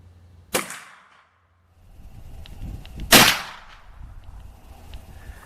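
Two loud, sharp rifle shots about two and a half seconds apart, a CVA Hunter firing 44 Magnum LEVERevolution rounds outdoors at about 50 yards, each blast followed by a short decaying echo.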